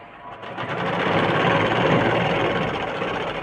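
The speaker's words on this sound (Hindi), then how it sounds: "चलते हैं इसका बैक पार्ट सिलाई करने।" A sewing machine runs steadily, stitching the back panel of a garment with a continuous close whir that swells slightly and holds for a few seconds with no talking.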